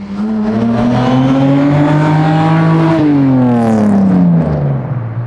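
A widebody Datsun Fairlady Z's loud exhaust revs up close, its throaty note climbing in pitch, briefly dropping, then rising again before easing off.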